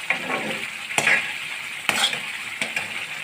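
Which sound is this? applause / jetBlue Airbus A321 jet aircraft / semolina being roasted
semolina being roasted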